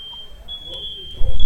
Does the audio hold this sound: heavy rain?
no